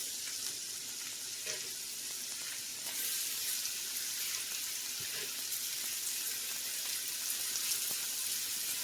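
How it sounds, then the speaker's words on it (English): Mushrooms cook in browned butter with a steady, close sizzle. Soft crackles and stirring clicks run through it, and there is no talk. "Now we begin to cook the mushrooms."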